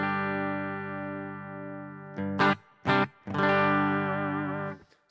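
Guitar amp model on an HX Effects processor with reverb switched on: a held chord ringing into a spacious tail, then several sharp strums and a sustained wavering chord that fades into a trailing wash at the end.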